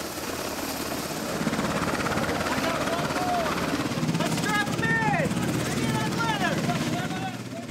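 Helicopter rotor thump and engine drone surround the USNS Comfort hospital ship as the aircraft arrives, loud and steady with wind noise and people talking over it.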